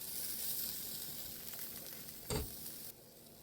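A taco with its cheese side down sizzles softly on a low-heat griddle, a faint steady frying hiss with a brief louder burst as it is placed, then fading quieter.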